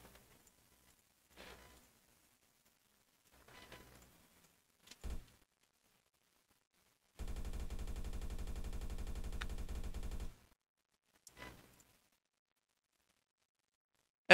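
Gunfire with recoil in a Unity video game: scattered single shots and short bursts, then a sustained three-second burst of rapid automatic fire, crisp and dry against silence.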